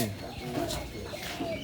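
A bird calls in soft cooing notes nearby, repeating a few times against a busy background with a voice speaking now and then.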